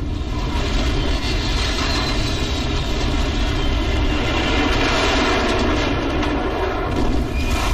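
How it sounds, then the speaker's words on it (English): Roaring aircraft engine noise during a plane crash in the video game F.E.A.R. 2, a loud, continuous, dense rumble that stays steady throughout with no talk. "nothing says the apocalypse like a plane crash"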